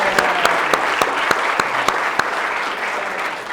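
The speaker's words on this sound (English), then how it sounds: "Can we give this guy another round of applause?" An audience at a personal development workshop applauds loudly and steadily, dense clapping with a few sharp individual claps standing out at a regular pace.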